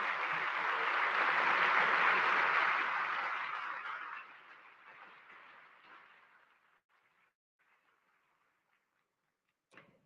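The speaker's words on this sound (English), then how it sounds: "Let's give them a round of applause." An audience applauds at the inauguration of an International Olympic Committee session in India. The clapping starts full and loud, then thins and fades to near silence over several seconds, with one brief sound just before the end.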